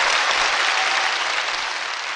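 Audience applause at a talk on opposition to the Four Rivers project, a dense, continuous wash of clapping from a sizable crowd, loud and steady for the whole stretch with no voices on top.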